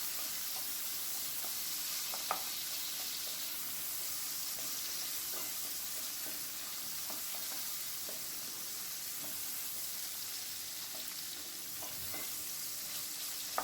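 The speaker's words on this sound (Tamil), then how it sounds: "இப்போ இந்த வெங்காயம் தக்காளி வதங்கும் போது" Onions and tomatoes saute in oil for an empty salna gravy, a soft continuous sizzle with occasional faint clicks of a stirring spoon throughout.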